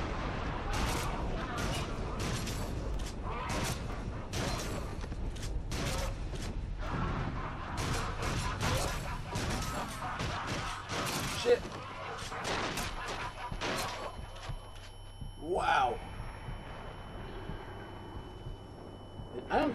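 Gunfire in the VR horror shooter Until Dawn: Rush of Blood, with repeated bursts of shots in a busy, rattling stream over game noise and effects while someone talks throughout.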